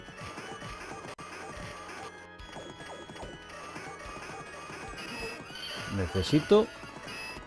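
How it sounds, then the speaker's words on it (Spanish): A horse neighs in the 1991 arcade game Knights of the Round, rising near the end over busy game music and sound effects, while someone talks throughout. "Vamos, caballito."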